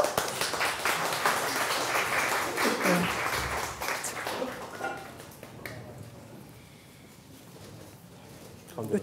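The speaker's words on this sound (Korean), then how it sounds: "우리 그래도 박수로 대표님들 모셔볼까요?" A forum audience applauds to welcome company heads onstage for a Q&A: dense, loud clapping for about four seconds that fades out, followed by a host talking.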